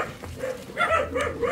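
A dog gives short, soft yips and whimpering barks in a few quick bursts, fairly close, at an outdoor food-basket delivery to families.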